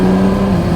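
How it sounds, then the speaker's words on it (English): BMW N54 car engine pulling hard in second gear under heavy throttle, a loud, close, sustained rasping roar with a steady droning tone across the whole burst. "So we're in second right now. Hard throttle."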